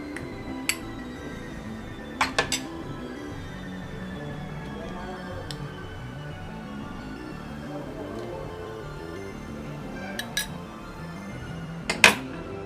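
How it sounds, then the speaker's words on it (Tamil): Meat being mixed by hand with ginger garlic paste and curd in a bowl, giving soft squelching and scraping under a steady room hum, with a few sharp clinks of utensils against the dish. "இப்போ நம்ம கறியை இஞ்சி பூண்டு பேஸ்ட், தயிர் போட்டு மிக்ஸ் பண்ணி வச்சுக்க போகிறோம்"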